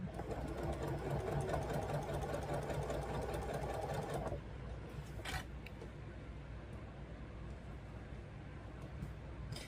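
A sewing machine stitches quilt pieces for a small ornament, running loud and steady with a fast mechanical whir for about four seconds, then stopping and leaving quieter room noise with a few brief clicks.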